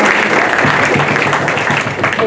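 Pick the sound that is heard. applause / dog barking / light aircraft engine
applause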